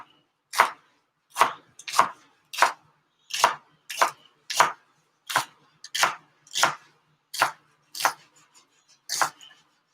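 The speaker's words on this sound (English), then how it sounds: "I just quartered the celery and then kind of chopped it up a little bit" Knife chopping quartered celery for a Thanksgiving meal, about a dozen crisp, evenly spaced chops on a cutting board, close and clear with no talking.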